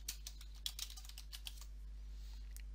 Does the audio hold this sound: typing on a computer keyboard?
yes